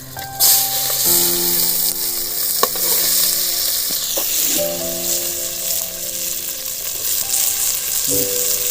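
Green chillies and onions sizzling in hot oil in a pan for a Telangana-style boti curry, a loud, steady close-up hiss with occasional stirring scrapes and clinks over the frying.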